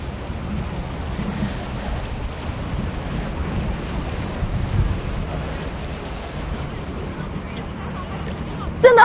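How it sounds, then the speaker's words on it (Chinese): Cold, fast river current rushes around the legs of a person wading through it, making a steady, dense wash of water noise with wind-like buffeting throughout and a brief sharper splash at the very end. "前面的水流很急"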